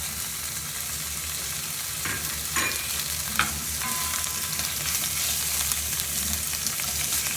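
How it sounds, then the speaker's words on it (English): Whole cherry tomatoes and dried tomatoes frying in a pan, a dense, even close-up sizzle with a few brief spatters and stirring scrapes. "I just let them cook for just a couple of seconds."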